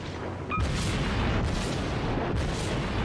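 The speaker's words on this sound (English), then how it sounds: "And we're opening fire, and as you can see, once the first shells arrive, the second batch can already be fired" Naval cruiser guns fire shells in World of Warships, a Japanese Kuma-class cruiser, with a heavy booming salvo opening loud and sustained, followed by two further rolling blasts about a second apart.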